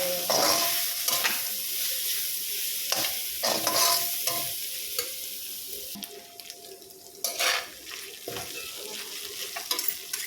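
Ground meat seasoned with annatto sautéing in a pan for pancit bihon: steady close sizzle broken by repeated spatula scrapes and stirring strokes, with no talk.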